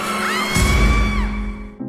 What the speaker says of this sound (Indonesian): Kita bisa mendengar teriakan perempuan itu